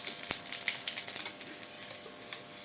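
Cumin seeds, radhuni and three dried chillies frying in hot oil give a bright crackling sizzle, close, with sharp pops and spits scattered through it.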